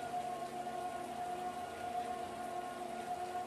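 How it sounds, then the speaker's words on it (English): Rain falling in the Farming Simulator video game, a steady even hiss of drops with a faint tonal hum underneath, no voices. "Go riding in the rain"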